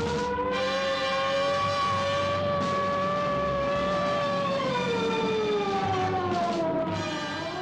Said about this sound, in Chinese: 警报声就响起。